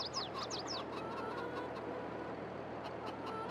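A few quick chicken clucks and chirps from the Farming Simulator 22 farm at Elmcreek, bunched in the first second over a steady low machinery hum that carries on alone afterward.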